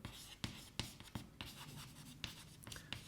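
Chalk or marker strokes on a board during a general relativity lecture, a series of short scratchy taps and scrapes close by over room noise.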